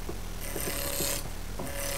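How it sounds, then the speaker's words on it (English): A spindle roughing gouge cutting a spinning walnut block on a wood lathe, giving a steady, close rasping hiss with brief scraping surges as the tool bites. "I proceed to use a spindle roughing gouge to rough out that block of walnut"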